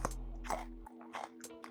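Two or three sharp, crisp crunches of teeth biting into a thick-walled Tangerine Dream pepper, heard up close and quiet, with no talking.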